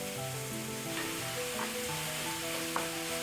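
Ground beef fries in a pan with garam masala paste, giving a continuous, fairly quiet sizzle while a few brief scraping touches come through.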